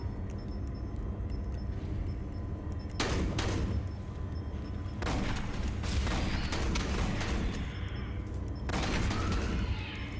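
Shotgun blasts fire repeatedly in the sci-fi shooter game Aliens: Colonial Marines, several loud booming bursts spaced a couple of seconds apart over constant background game noise.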